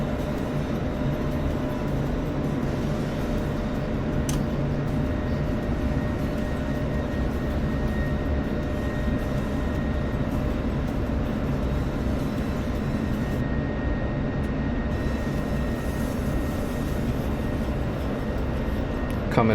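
Steady droning roar of an aircraft coming in to land on the left runway in a flight video game, continuous and fairly loud with no talk over it.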